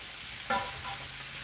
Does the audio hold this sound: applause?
no